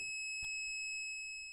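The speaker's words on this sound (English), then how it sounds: "press and hold the power button till it rapidly beeps and then one long beep." A SuperRide S1000 electric unicycle gives a continuous steady electronic beep during calibration, a single sustained tone with a few soft clicks and handling noises beneath it.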